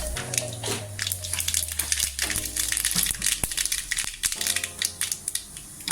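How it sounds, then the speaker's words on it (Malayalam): Mustard seeds sputter and pop in lightly heated oil while carrot upma is being made, with a close, irregular crackle of sharp snaps over a faint tonal background. "അപ്പോൾ എണ്ണയൊന്ന് ചെറിയതായിട്ട് ചൂടായി കഴിയുമ്പം നമ്മൾ ഈ കടുക് അതിലേക്ക് ഇട്ട് കൊടുക്കുക."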